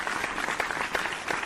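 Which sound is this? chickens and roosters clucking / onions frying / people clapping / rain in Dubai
people clapping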